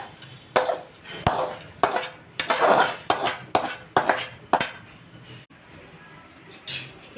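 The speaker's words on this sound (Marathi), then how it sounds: "रवा आपला भाजून झालाय, तर रवा आता एका प्लेटमध्ये काढून घेऊया" Roasted semolina being scraped out of a pan onto a plate: a series of sharp metallic spoon knocks and scrapes in uneven bursts, close by, followed by a brief quieter pause and one last clink.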